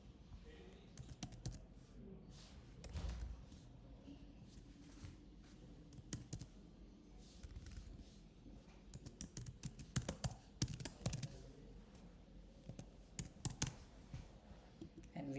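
Notes typed on a computer keyboard during a sales software demonstration, irregular bursts of soft key taps and clicks, close and quiet, with brief pauses between flurries and low background hum.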